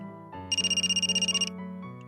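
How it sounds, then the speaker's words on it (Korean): A mobile phone rings with an incoming call. A bright, rapidly trilling ringtone pulses for about a second over a soft melodic tone, clear and close, with no speech. "며칠이 지나지 않아 제 핸드폰으로 낯선 번호의 전화가 걸려왔습니다."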